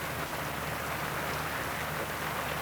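Heavy rain pours down in a dense, unbroken hiss that stays loud and constant throughout, with no voices over it.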